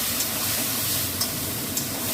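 Spices with split green chilli and sugar fry in a pan with a steady, bright hissing sizzle, close and even, with a few small sharp pops and no voices.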